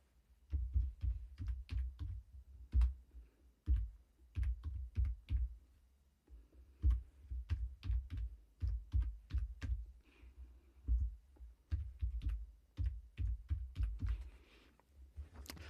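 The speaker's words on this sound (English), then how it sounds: "let's type that in." Typing on a computer keyboard of a Windows machine gives quick irregular bursts of close, crisp key clicks with brief pauses between words, and no talking.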